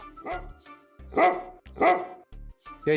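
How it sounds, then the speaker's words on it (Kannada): A dog barks in a series of close, loud woofs, with short pauses between them and a higher yip at the end. "ಏನೋ ಹಂಗೆ ಬೊಗಳುತ್ತಾ ಇದೆಯಾ?"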